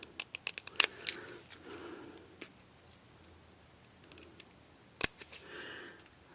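Scissors snip paper around a stamped image in short bursts of close, crisp cuts, with quieter pauses and a sharp louder snip midway, faint and intimate.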